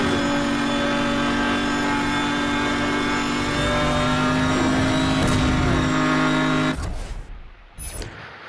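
Racing car engine from the video game NFS Hot Pursuit Remastered, a loud steady high-revving drone through most of the clip, then cutting off abruptly near the end as the race finishes.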